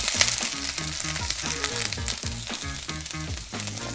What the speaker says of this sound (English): Wanna saute the seasonings until the onion is translucent